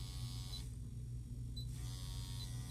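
Rotary tattoo machine built for low-trauma shading and black-and-gray work runs steadily up close, a continuous electric buzz with a low motor hum, alone with no talking.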